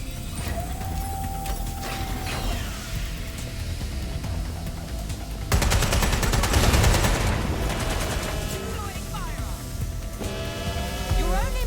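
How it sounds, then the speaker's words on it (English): Gunfire in the Watch Dogs Legion video game erupts in a loud, dense burst in the middle of a stretch of game noise and mechanical sounds, with a voice talking over parts of it. "I'm taking fire!"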